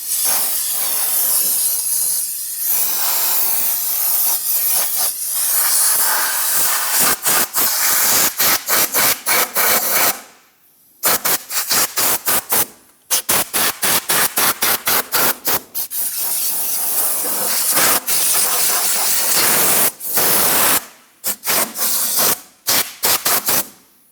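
Compressed air from an air hose blasting debris off the engine of a 2011-2021 Jeep Grand Cherokee 3.6L V6, loud close hissing bursts in a long series of short rapid pulses with a few brief pauses.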